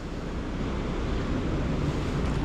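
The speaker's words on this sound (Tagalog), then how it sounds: "lakas ng alon o" Strong ocean surf pounding steadily along the coast at Infanta, Quezon, during low-pressure weather, a loud continuous roar of breaking waves mixed with heavy wind buffeting the microphone, with no voices.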